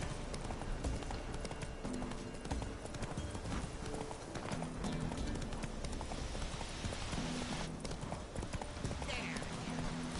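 Roach the horse trots in The Witcher 3 with steady, rhythmic hoof clip-clops over a dense game soundscape, and a voice speaks briefly over the hoofbeats.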